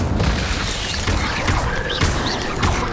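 A fire spell cast in the Hogwarts Legacy video game roars as a dense, continuous rumbling blast with repeated booming swells, loud and close, with no talking.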